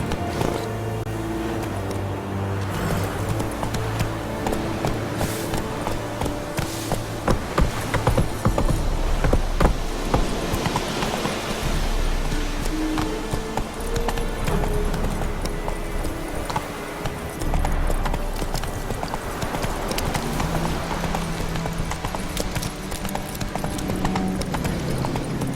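Roach, the horse in The Witcher 3, gallops steadily with loud, close, rapid hoofbeats over a constant rumble. The rhythmic clip-clop runs the whole way, without a break or any talking.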